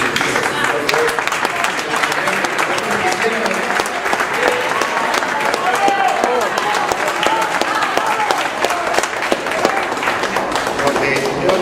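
An audience at a public forum on security, justice and an amnesty law breaks into sustained applause, a dense, steady patter of many hands clapping from start to finish.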